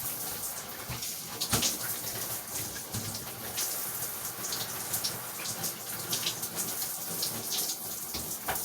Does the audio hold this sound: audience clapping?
no